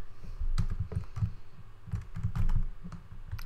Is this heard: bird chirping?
no